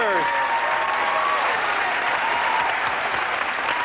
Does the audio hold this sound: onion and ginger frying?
no